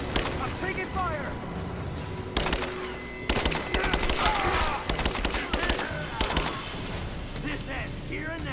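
Gunfire in Rise of the Tomb Raider rings out in repeated loud bursts and single shots during a firefight, mixed with shouted voices and game effects.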